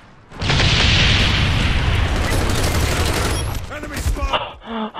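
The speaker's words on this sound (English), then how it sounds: "Napalm strike coming in." A napalm strike in the Call of Duty video game erupts in a loud, sustained roaring blast that rolls on for several seconds, followed by scattered gunfire and game sound effects.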